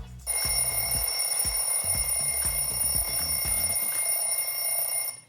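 A countdown timer alarm in Canva rings at zero, a loud rapid bell-like trill that pulses in quick bursts with a high steady tone on top for about five seconds, alone without talk.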